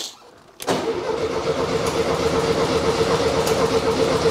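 A Volkswagen Beetle left abandoned for five years catches and starts after a brief quiet moment, settling into a loud, rough, continuous air-cooled engine clatter close by with slight revving surges.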